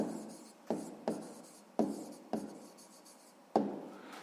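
A pen writing down the answer to a sixth-grade math problem, five or six scratchy strokes, each with a sharp onset and quick fade, close and quiet with no speech.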